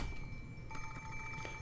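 An antique telephone rings faintly in the Umineko visual novel game, a thin electronic bell tone held steady over a low background hum.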